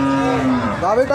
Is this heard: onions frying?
no